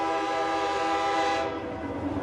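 A train horn sound effect used as a live-stream alert blares as a loud sustained multi-tone chord, steady for over a second before dropping in level and thinning out, with no talking over it.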